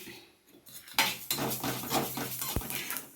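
Sesame seeds are dry-roasted in a pan, with a metal spoon scraping and clinking against it in quick, close strokes over a faint rustle of seeds, fairly quiet and without talk.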